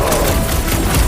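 Rapid volley of fireworks blasts launched by a raccoon-like gunner in a Marvel's Guardians of the Galaxy combat scene, loud and dense, a continuous crackling barrage of booms.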